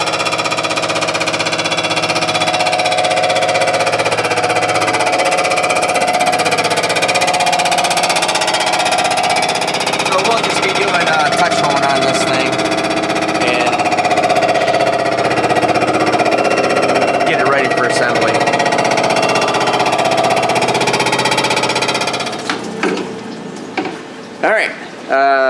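A cylinder hone works inside an LS V8 engine block, giving a steady, harsh grinding drone for about twenty seconds before it winds down into uneven clatter and stops, with voices at times.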